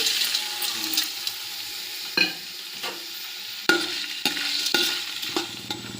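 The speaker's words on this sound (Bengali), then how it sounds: "এবার ভেজানো চালটা দিয়ে দিলাম।" Soaked rice with bay leaves, mace, cashews and raisins sizzles in hot fat for pea pulao, a soft continuous frying hiss broken by several scraping stirs and clinks of a spoon against the pan.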